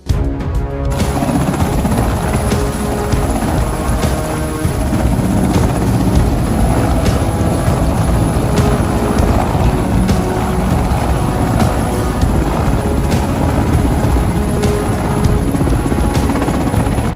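A Mi-17 V5 military helicopter of the Indian Air Force flies with a steady, loud rotor thump and turbine whine that carries through the whole stretch, with no voices.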